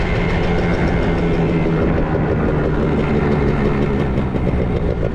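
A Dragster scooter engine runs loud and steady at high revs, a dense continuous drone that stays close without clear drops or pauses.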